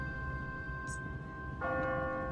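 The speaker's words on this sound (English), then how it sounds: "What kind of church bell goes off at 20 past the hour?" An automatic church bell rings in the Walking Dead video game, one loud clang near the end over a steady background hum, preceded by a faint brief chime.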